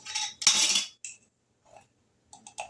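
A utensil mixes baking soda and baking powder into dry ingredients in a bowl for oatmeal cream pie cookies: quick scraping and clinking strokes, a louder burst of stirring, then sparse light taps after a pause.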